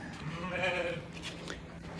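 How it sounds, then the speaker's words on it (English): Sheep on a small hobby farm bleat in a wavering, nasal call, one clear bleat rising over a quiet outdoor background at moderate distance. "I have a small herd of sheep."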